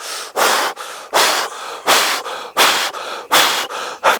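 Big Wim Hof-style breathing: deep, forceful breaths alternating in and out in a steady rhythm, about eight strong rushes of air in four seconds, loud and close with no talk.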